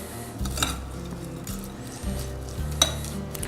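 Seasoning and olive oil get mixed into food in a pan, a soft low sizzle under a few clinks and scrapes of a utensil against the pan, quiet and close, without talk.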